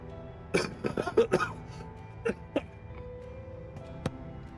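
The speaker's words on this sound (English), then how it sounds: "Sorry for the coughing, that was gross." One person coughs in a short cluster of several bursts, followed by a couple of isolated coughs, fairly close and moderately loud against a quiet background.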